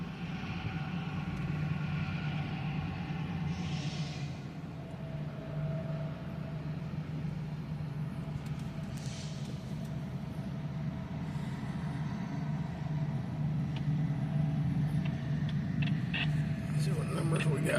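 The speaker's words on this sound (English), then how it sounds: "You can hear them engines working hard." Engines of a loaded track machine work hard, giving a steady, loud low rumble with a continuous drone that holds throughout, while voices talk faintly over it.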